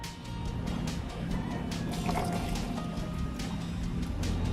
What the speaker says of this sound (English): Okay, and then I'm going to add the water.